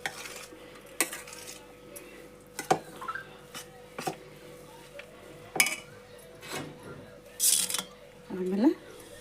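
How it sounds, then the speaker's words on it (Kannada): A spoon clinks and scrapes against a bowl while churumuri snack is mixed with squeezed lemon juice, irregular taps and stirring rattles at close range. "ಈಗ ಎಲ್ಲ ಮತ್ತೊಮ್ಮೆ ಕಲಸೋಣ್ರಿ."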